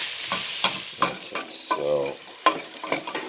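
A spoon stirs flour cooking in a pot for a beer and rosemary lamb stew, giving scraping strokes and a soft sizzle close by, with a single spoken word at the start.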